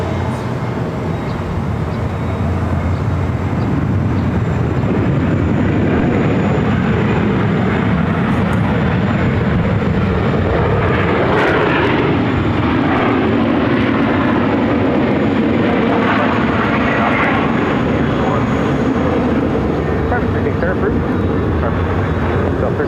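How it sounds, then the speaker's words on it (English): A Southwest Boeing 737-700 airliner lands at Phoenix airport. Its jet engines roar and rumble steadily at a distance for over twenty seconds, and people talk over the noise. "The Southwest Flight 1302 coming in from Puerto Vallarta on a 737-700"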